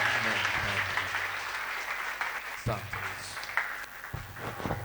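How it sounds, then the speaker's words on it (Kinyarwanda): A church congregation at a service in Bujumbura breaks into sustained applause, clapping steadily at close range while voices carry on over it, then thinning into scattered claps toward the end. "komera amashyi menshi"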